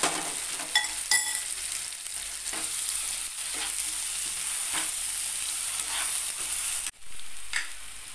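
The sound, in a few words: soybean, green chili and garlic paste frying with onions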